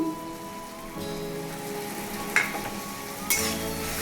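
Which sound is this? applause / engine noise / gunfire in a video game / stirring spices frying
stirring spices frying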